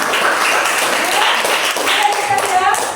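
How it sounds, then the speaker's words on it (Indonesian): A classroom of students claps together for about three seconds, a dense, steady patter of hand claps with a few faint voices mixed in. "Tepuk tangan ya."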